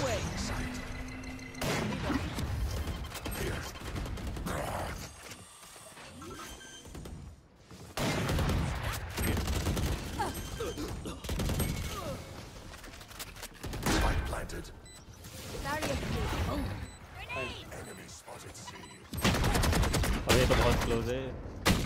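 RGX gunfire from Valorant rattles in rapid bursts, loud and sharp, with pauses between volleys and mixed game sounds, while a voice talks over parts of it.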